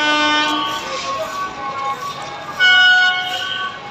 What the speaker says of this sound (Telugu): ట్రైన్ ఎలా మూవ్ అవుతుందని చూద్దాం